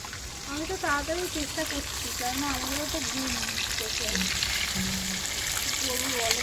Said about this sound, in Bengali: তাড়াতাড়ি ভাজো তাড়াতাড়ি ভাজো আরও মাছ বাকি